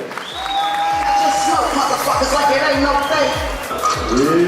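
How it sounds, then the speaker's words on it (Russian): An audience at a women's boxing bout between Kyrgyz fighter Shahriza Khalilova and Uzbek Mukhae Erkinova applauds and cheers loudly and continuously, a dense crowd wash with whoops, with an announcer's voice and rhythmic thumping music underneath. "Ваши аплодисменты!"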